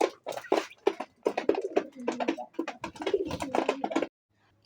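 Domestic pigeons coo up close in rapid overlapping throaty bursts for about four seconds, then break off into near silence.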